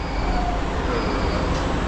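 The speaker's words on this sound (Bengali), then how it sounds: "That was the last train." Night train in Kuala Lumpur, the last service of the night, gives a steady, continuous rumble and roadway-like hiss that fills the whole stretch at close range, with no speech.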